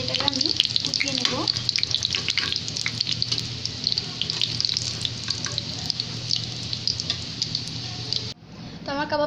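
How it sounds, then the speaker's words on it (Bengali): Egg shami kababs fry in hot oil, giving a steady bright sizzle throughout with a low hum beneath and a few small clinks, cutting off abruptly near the end. "তো কাবাবগুলো হয়ে গেছে ভাজা, দেখতেই পাচ্ছেন খুব সুন্দর একটা কালার হচ্ছে।"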